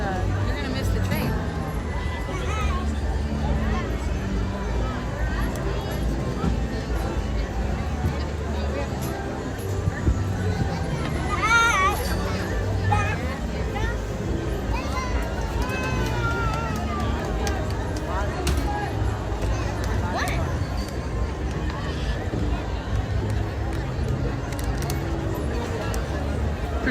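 Crowd at Disneyland's Fantasyland near the Casey Jr. train station: steady outdoor hubbub of many voices and footsteps, with a brief higher whistle-like sound midway and constant low background rumble throughout.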